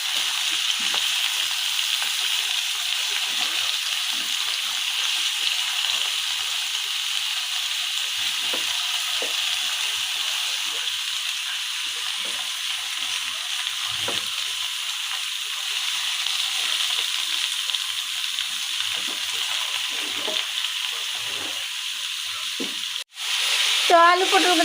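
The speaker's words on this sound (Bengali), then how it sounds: "আলু পটল কিন্তু ভাজা ভাজা হয়ে আসছে অনেকটা" Potatoes and pointed gourd frying in hot oil give a steady, close sizzle that runs unbroken throughout, with faint stirring scrapes and a brief clatter near the end.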